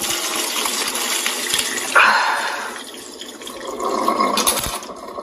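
Cooked macaroni is poured through a strainer in a rush of splashing water, with a louder surge early on that settles into steady draining and dripping before a second swell of pouring.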